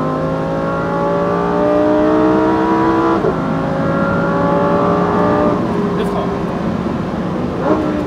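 A Lamborghini Huracan STO accelerates on a race track, its engine note loud and steadily rising in pitch, then dropping briefly at two gear changes before climbing again, heard from close by.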